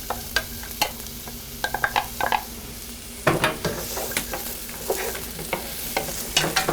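Onions sauté in a few tablespoons of oil in a skillet on the stove, a soft continuous sizzle broken by irregular scraping stirs and light knocks against the pan, close up with no one talking.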